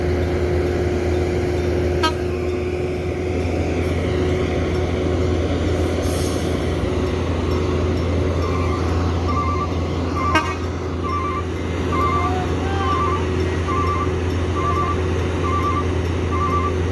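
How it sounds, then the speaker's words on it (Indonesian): At an Indonesian bus terminal, a large tronton bus arrives amid a steady engine rumble, with a short series of repeated horn toots near the end and busy background noise. "Dan untuk Mior ini bus tronton baru masuk juga bosku."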